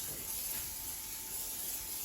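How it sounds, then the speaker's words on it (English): Non-stick cooking spray hisses steadily into a 2-quart casserole dish, a short continuous faint aerosol burst with no voices. "Let me spray it with a non-stick cooking spray."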